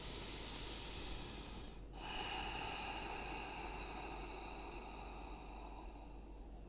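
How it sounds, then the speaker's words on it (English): Steady, deep breathing fills a yoga pranayama practice, a long airy breath with a brief pause partway through, close and continuous under a constant hiss. "Take a deep breath in. Full breath out."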